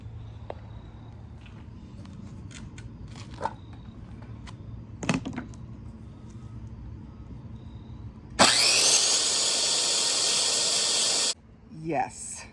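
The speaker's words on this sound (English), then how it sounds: "I was sawing on a paint can." A loud, steady burst of sawing on PVC trim propped on a paint can, running about three seconds close by, after quieter handling knocks and faint background sounds.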